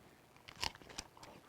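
Crunchy bites into a Rainbow Crunch wrap, a few sharp crisp crunches close up, the loudest near the middle, with softer chewing bits around them and no talk.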